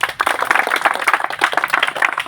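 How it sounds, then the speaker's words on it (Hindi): A crowd claps at a cricket tournament, a loud, close, steady patter of many hands lasting a couple of seconds without a break. "ताली हो"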